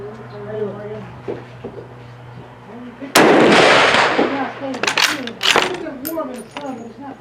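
A Mosin Nagant rifle firing .308 rounds lets out one loud, sharp crack partway through, then metallic clatter and clinks, while someone talks before and after the shot.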